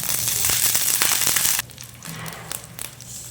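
Dried red chillies hitting hot oil for a drumstick and lentil kulambu give a loud, dense sizzle with sharp crackles for over a second, then drop to a quieter, sparse spitting with a few pops.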